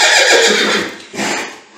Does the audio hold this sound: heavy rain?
no